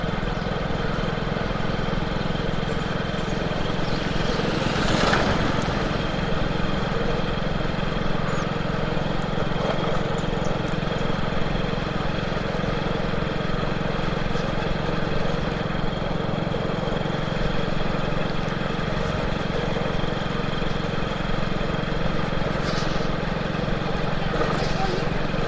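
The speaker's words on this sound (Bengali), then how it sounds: "বাইক বেশি জোরে চালাবো না আজকে।" A motorcycle engine drones steadily while being ridden, a continuous close hum with wind rush and a faint muffled voice underneath, with no clear change in speed throughout.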